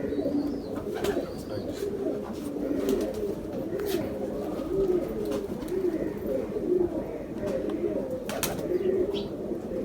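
Pigeons cooing in soft, rolling, repeated calls close by, with scattered rustles and clicks mixed in.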